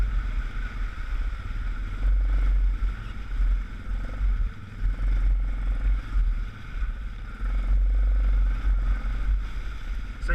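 An ATV engine drones steadily along a trail, its motor rising and falling in pitch as the rider works the throttle, close and continuous with no talk.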